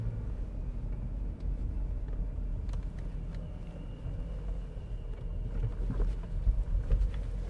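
A 300,000-mile Toyota's front suspension creaks over a bump while driving, a few faint, brief creaks under a steady low road and wind rumble, with the rough thumps growing stronger toward the end.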